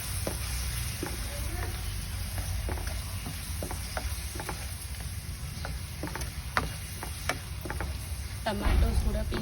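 Chopped tomatoes fry with a steady low sizzle in a pan while being stirred for tomato elbow macaroni, with soft scraping clicks scattered throughout and a louder stir near the end.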